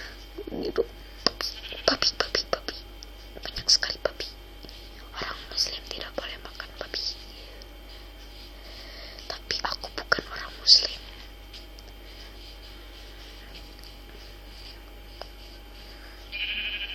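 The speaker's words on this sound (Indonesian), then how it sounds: "domba, sheep, oh, sheep" Minecraft sheep bleat in short, fairly faint calls, mostly near the start, under a steady stream of close, breathy whispered talk from a player.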